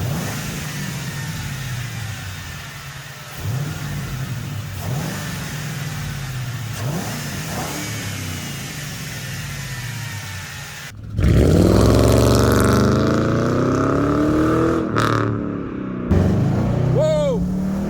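A Ford Crown Victoria V8 with a cold air intake runs steadily, then blips and revs loudly with a deep rising roar up close, while a voice talks over the engine throughout.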